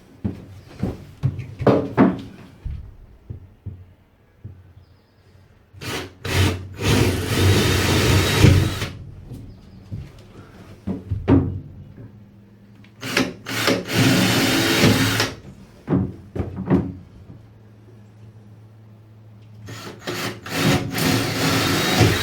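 A hand saw cuts through wood for a box truck conversion, in several bursts of rasping strokes separated by pauses, with knocks and handling noise between them, close and fairly loud.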